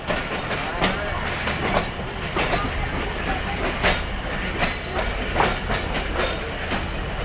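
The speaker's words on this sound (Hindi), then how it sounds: "अब हमारी गाड़ी जो है वो स्टेशन के अंदर दाखिल हो रही है।" A passenger train pulls into Lahore station in Pakistan, with steady rumbling wheels and rhythmic clickety-clack of the carriages running close and continuous, light voices mixed in beneath.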